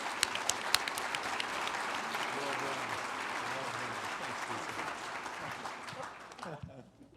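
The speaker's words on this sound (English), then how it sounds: "Please give our panelists a round of applause." An audience at a Utah spring breakfast event gives panelists a sustained round of applause, dense clapping filling the room for several seconds with a few voices beneath, tapering off at the end.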